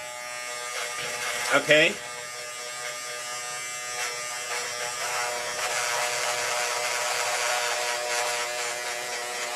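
An electric hair clipper with a turbo button hums in a steady, close mechanical buzz while cutting hair. A brief spoken word cuts in near the start.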